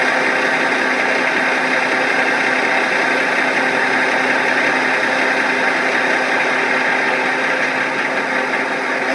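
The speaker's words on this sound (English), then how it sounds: "If you listen over here, you can hear the pump." An agricultural sprayer pump runs steadily and loudly, a constant mechanical whine and hum heard close up with no variation and no talk.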